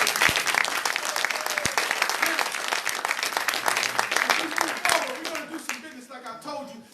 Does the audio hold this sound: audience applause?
yes